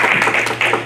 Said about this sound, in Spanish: Vamos a darle un aplauso a la gente que ha decidido bautizarse.